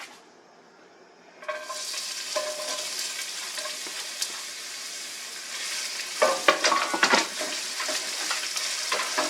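Onion hits hot avocado oil in a pan for Spanish rice, bursting into a sudden loud sizzle after a quiet start, then a steady crackle with a flurry of stirring scrapes near the end, close and unaccompanied by talk.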